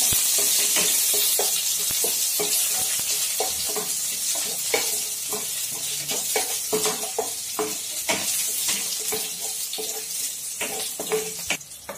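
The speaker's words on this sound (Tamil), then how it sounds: "சின்ன வெங்காயம் இதுல ஆட் பண்ணிக்கலாம். நல்லா ஃப்ரை பண்ணிக்கலாம்." Steady sizzling of shallots and curry leaves frying in hot oil in a pan, with repeated scraping and stirring clatters throughout; no talking.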